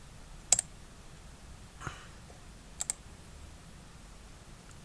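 A computer mouse clicks while a form is submitted, giving a few sharp, close double clicks spaced a second or two apart, alone against quiet room tone, with no talk.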